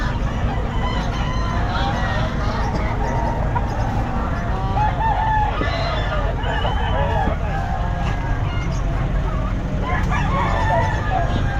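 Rooster crowing amid a busy pet market, with clucking fowl and a steady murmur of crowd chatter and talking throughout.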